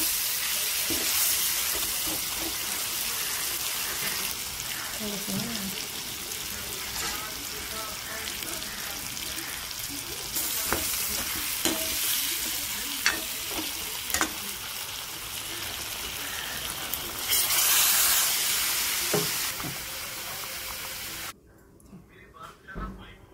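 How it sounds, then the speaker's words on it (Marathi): Eggplant sautéed with masala in a pan: a constant sizzle with scraping stirs and occasional clinks of the spatula, fairly close, fading to quiet at the very end. "मसाला पण छान असा वांग्याला लागून तो परतून घ्यायचा आपल्याला 1 ते 2 मिनिटं"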